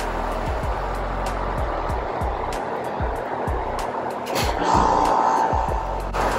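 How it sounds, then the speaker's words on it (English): A home air conditioner compressor running nearby, giving a loud, steady low drone with a regular pulsing throb and a slight swell in intensity toward the end. "That was my normal AC compressor"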